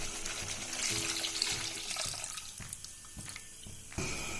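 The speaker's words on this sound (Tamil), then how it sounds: "அந்த தண்ணியை வந்து இது கூட வந்து சேர்த்துக்கோங்க" Strained water is poured into a pot of lentil-free idli sambar in a home kitchen, a steady splashing stream that trickles and drips off over a few seconds, with pot clatter near the end.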